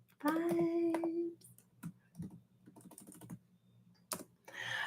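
Keyboard typing for a chat message comes as scattered short clusters of clicks, fairly close and moderate in level, mixed with brief voice sounds and pauses.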